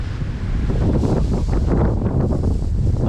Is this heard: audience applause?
no